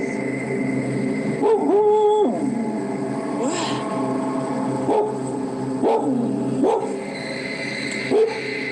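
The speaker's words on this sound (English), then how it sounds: "This after dark footage shows the uploader's dog acting up, barking and howling toward the area where the figure paces." A dog barks, yelps and whines in short agitated bursts outdoors after dark, with brief harmonic cries repeating over several seconds against a steady background hum.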